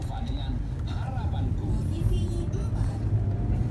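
Mercedes-Benz E260 W211 with a V6 engine pulling under acceleration on a test drive, a steady low rumble from inside the cabin with faint road noise, constant and moderately loud throughout.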